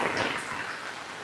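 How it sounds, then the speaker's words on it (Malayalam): Steady rain falling in a village, a constant soft hiss with no breaks and no voices. "നല്ല മഴ പെയ്തു"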